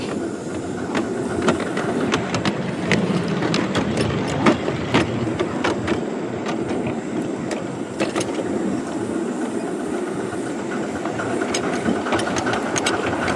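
A tiny working steam engine chuffs and clatters as it climbs a bank on an up-and-down track, a close, steady mechanical churn with rapid sharp ticks and knocks throughout.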